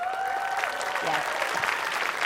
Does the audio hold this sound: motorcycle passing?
no